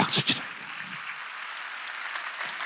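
A church congregation breaks into applause during a sermon. A couple of loud vocal bursts open it, then a steady patter of clapping carries on at moderate volume.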